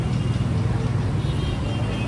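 A packed tempo carries a costumed group through Mumbai's Cuff Parade toward a Ganesh arrival procession, its engine and tyres giving a steady, unbroken low rumble on the road with no break in the drone.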